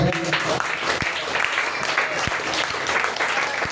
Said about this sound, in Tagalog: Pag kaya niyo pang pumalakpak sa Panginoon mga kapatid, palakpakan niyo ang ating kanila.